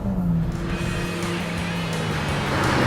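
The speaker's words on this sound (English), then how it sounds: "Now the engine. Frankly, it doesn't feel like a 110 bhp motor" Ford Figo automatic with a 110 bhp engine running: a steady engine drone with a low tonal hum that drifts slightly in pitch, continuous and moderately loud throughout.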